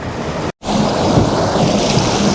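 Steady sea breeze and wind buffeting a microphone by the ocean, with rushing surf-like noise throughout and a brief cut to silence near the start; no voices.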